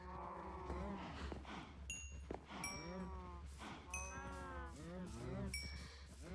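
Minecraft cows moo repeatedly in a hardcore survival game, with several overlapping, drawn-out lowing calls close together over a steady low hum and no speech.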